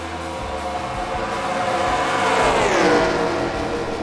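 Race cars in NASCAR Racing 2003 accelerating at the green flag, a loud engine roar that rises and then sweeps downward in pitch as cars pass close by.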